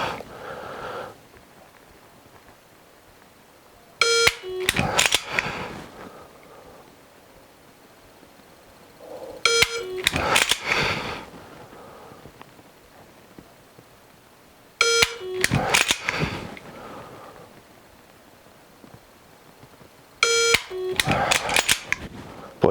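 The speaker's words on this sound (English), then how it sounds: "Let's try it with Benvolio here and see if that Gray Guns trigger makes any objective difference." Dry-fire practice with a pistol fitted with a Gray Guns trigger gives four sharp, loud mechanical snaps and clicks, evenly spaced about five seconds apart, each followed by brief handling rattles, with quiet pauses in between.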